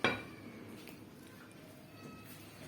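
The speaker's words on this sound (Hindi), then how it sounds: "अब मैंने एक डिश ले लिया है जिस पर मैं ये आलू की भुजिया डालूंगी" A dish is set down in a home kitchen while aloo bhujia is being made, giving one sharp clink at the start that rings off into quiet room tone.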